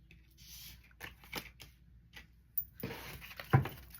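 Tarot cards handled by hand, quiet papery riffles and slides in short scattered bursts, with a louder rustle and tap near the end, close and fairly soft with no talk.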